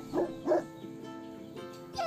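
Dog barking, a few short yips and barks spaced apart, close and moderately loud.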